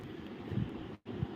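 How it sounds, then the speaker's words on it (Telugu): An electric fan runs in a room, giving a steady, close whooshing hum that briefly cuts out near the end before resuming. "ఆ ఫ్యాన్ సౌండ్కి మీకు సరిగ్గా వాయిస్ వినిపించట్లేదని అర్థమై"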